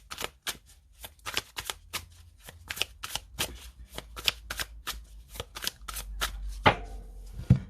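A deck of playing cards being shuffled and cut, a long run of crisp rhythmic riffle snaps and slaps, close and clear, ending with a brief soft rustle and a faint voice.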